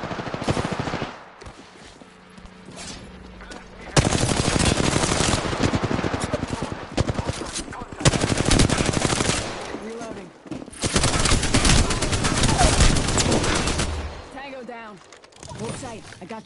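Gunfire in a PS4 shooter game: long bursts of automatic fire roar almost nonstop, with brief lulls between heavy volleys, loud and close.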